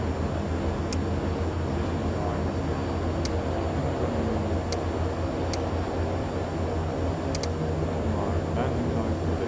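A Pilatus PC-6 Turbo Porter bushplane taxiing, with a steady, loud turboprop drone and broadband rumble heard from inside the cockpit and a few faint clicks scattered over it.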